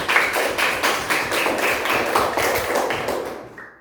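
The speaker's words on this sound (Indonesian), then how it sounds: "Tepuk tangan untuk kita semua." A classroom group claps together in a fast, rhythmic burst of applause that carries on for a few seconds before stopping abruptly, close and fairly loud, with no talking.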